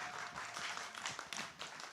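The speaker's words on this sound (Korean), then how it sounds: "김현우 선생님 다시 한번 박수 부탁드릴게요." Audience applause for a lecturer at a climate justice talk in Gwangju, a steady wash of many hands clapping through the whole stretch at moderate level, with no speech over it.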